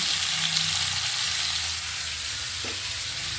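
New potatoes fry in a pan with salt and turmeric, giving a steady, close, loud sizzle and hiss throughout with no voices.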